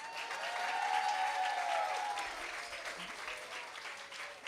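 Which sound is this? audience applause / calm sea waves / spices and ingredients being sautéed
audience applause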